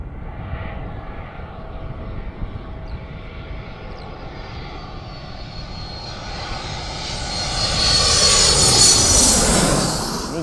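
A private jet's engines roar steadily from inside the cabin, a broad constant rumble and hiss that rises and grows louder toward the end, with no voices.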